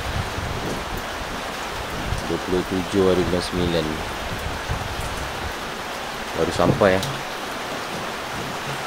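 Steady rain falls outdoors beside a river near a floating raft house in Mersing, a constant hiss of drops with occasional nearby patter; people speak briefly over it twice.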